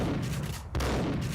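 Gunfire in the video game Max Payne, a fast burst of shots whose bursts run together into a rough, continuous rattle, briefly dropping out once before another heavy report comes in.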